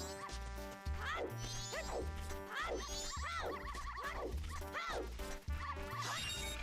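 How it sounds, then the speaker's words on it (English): Dogs in the dog race of the Zelda Majora's Mask video game give repeated short yipping barks in quick succession over busy, steady game music. "And we got a YOLO dog race here."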